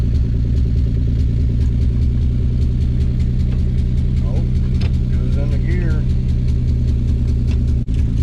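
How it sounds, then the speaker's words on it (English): A Nissan 300ZX engine idles with a steady low rumble and rhythmic puttering from an exhaust leak beneath the seats, while someone talks briefly over it. "It's got a little bit of an exhaust leak underneath the seats."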